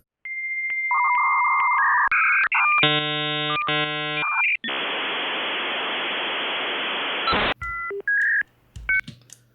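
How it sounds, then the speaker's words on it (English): A 56K dial-up modem connects: a dial tone, a run of rapid touch-tone digits, answering handshake tones, then a long loud burst of hissing static before warbling beeps and a few final chirps, all close and alone. "we hear the 56K dial-up modem start"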